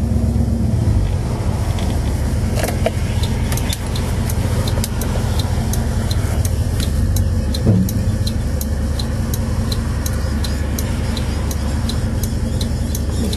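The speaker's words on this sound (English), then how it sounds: "No power steering this old tractor." An old tractor without power steering chugs along while driving, its engine a loud, constant low rumble with scattered rattles and knocks over it.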